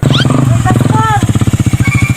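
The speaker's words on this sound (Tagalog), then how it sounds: "Si Pastor man yung nagmotor-motor" A motorcycle engine putters steadily up close, its rhythmic pulsing running throughout, with people talking over it.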